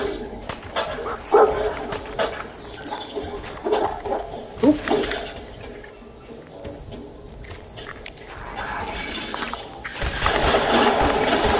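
Dog barking in the video game Fallout 4, a few short sharp barks scattered among game sound effects and background noise, fairly close and moderately loud.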